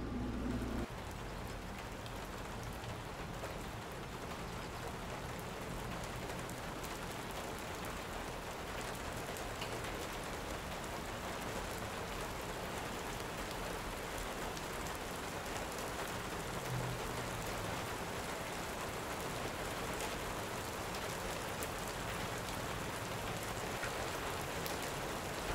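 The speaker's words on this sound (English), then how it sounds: "Got a little bit of rainy, cloudy, rainy action." Steady rain falling in Las Vegas, a continuous broadband hiss of drops at moderate level throughout with no voices.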